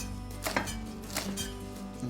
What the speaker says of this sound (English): Just chop this up